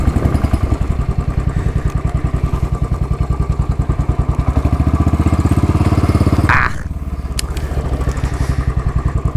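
A Royal Enfield Bullet 500 motorcycle on an autumn countryside ride in Ireland, with a loud, close single-cylinder thump at a steady rhythm. Partway through it briefly drops to a lower, quieter pulse.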